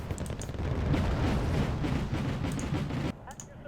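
Fire support vehicles firing artillery in the real-time strategy game Wargame: Red Dragon, a dense rolling barrage of booming shots and rumbling blasts that continues steadily, then drops off near the end.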